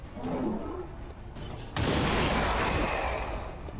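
A loud explosion in the strategy game XCOM 2: War of the Chosen with the Long War mod, a sudden broadband blast erupting partway through and rumbling on with debris, preceded by quieter game ambience.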